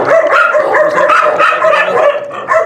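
Several Gultair puppies bark and yip close by in quick, overlapping high-pitched bursts, loud and continuous with a few whimpers.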